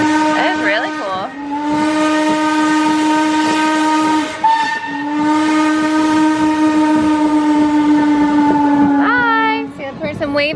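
A Strasburg Rail Road train rolls past close by, its horn or whistle sounding loud and long with strong harmonic tones almost throughout, a brief break midway, over steady rumble of the cars.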